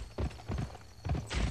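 Horse hooves clip-clop in the video game Gun, four or five heavy, evenly spaced thuds sounding up close and fairly loud, with no voices over them.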